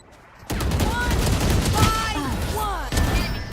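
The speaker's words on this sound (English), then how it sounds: "I shot somebody" Rapid bursts of gunfire from the Valorant tactical shooter, loud and continuous for about three seconds after a short quiet start, with game voice lines and effects layered over the shots.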